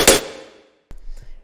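A deathstep bass shot with mid/stereo separation and reverb hits hard and loud at the start, then decays over about half a second into silence. A second, sharper burst follows with a low rumble and scattered faint echoes.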